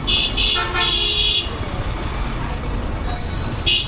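Road traffic of cars and motorbikes passes beneath a flyover, heard from above as a steady broad rumble, with high horn toots near the start and again near the end.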